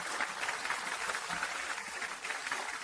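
Guests at a wedding give the newly married couple a warm round of applause, a dense, steady wash of clapping heard faint and distant throughout, with no voices.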